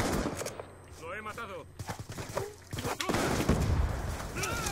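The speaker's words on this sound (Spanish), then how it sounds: "disparan por todos lados" Gunfire rattles in Call of Duty Black Ops 2, with bursts of rapid shots and sharp cracks scattered through a busy multiplayer battle, and a player talking over them.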